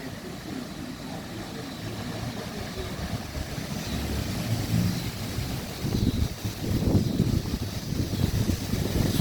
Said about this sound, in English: Whoa, there's some wind.